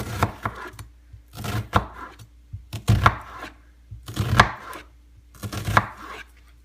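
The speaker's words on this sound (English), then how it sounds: "I just go ahead and cut into the onion like this" A kitchen knife, no longer very sharp, chops through an onion on a board in six distinct bursts of crisp, close cuts, each a quick flurry of strokes separated by short pauses.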